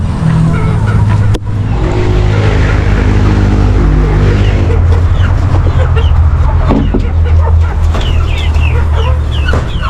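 Chickens cluck repeatedly amid a loud, steady rumble of background noise, with occasional bird calls scattered throughout.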